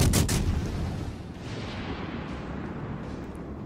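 Shell impacts hit the battleship Yamato in World of Warships Legends: a heavy, sharp boom at the start rolls into a sustained low rumble that stays fairly loud throughout.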